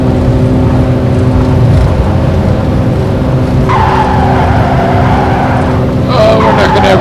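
A small airplane's engine runs at full power through a takeoff roll down the runway, a loud, steady droning hum that shifts slightly in tone partway through.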